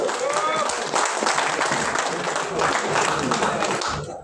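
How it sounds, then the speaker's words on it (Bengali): Applause from an audience at an income-plan meeting in Digha: a dense, steady wash of many hands clapping that holds for about four seconds, mixed with crowd voices and talk. "আরে হাততালি কি হলো?"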